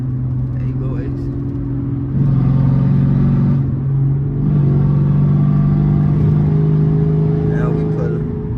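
A Dodge Challenger SRT8 392 Scat Pack pulls hard, its deep engine rumble rising in pitch and loudness as it accelerates, close up from inside the car with brief talk over it.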